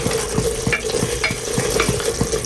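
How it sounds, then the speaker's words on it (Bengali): Meat being stir-fried and browned in a pot, a steady sizzle broken by regular scraping strokes of a spoon roughly every third of a second, close and fairly loud with no talking. "মাংস রান্না চলতেছে সুন্দর করে কষিয়ে"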